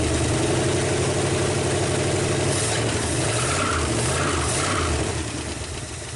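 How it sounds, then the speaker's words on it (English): A 1959 Ford Galaxie engine idles steadily and close by, with a faint rapid lifter tap ticking through its low, even rumble. "you can hear that lifter tap"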